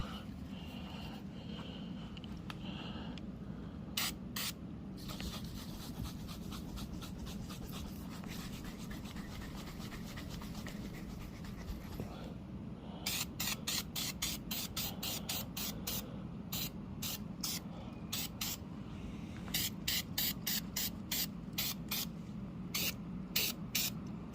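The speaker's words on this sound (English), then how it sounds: "So we're gonna grab some more of this and shake it up, spray it on." An aerosol can of paint stripper is sprayed onto the interior of a Foxbody Mustang. Short, hissy bursts come in quick rhythmic groups over a steady low hum and are heard up close, with no talking.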